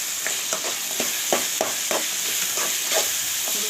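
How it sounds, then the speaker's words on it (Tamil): Turkey berries are stirred and sautéed in a pan for a spicy tamarind curry, giving a steady close sizzle with a series of soft, evenly spaced scraping strokes from a utensil. "கொஞ்சம் வதங்கந்தோம் சுண்டைக்காய் போட்டுக்கலாம்."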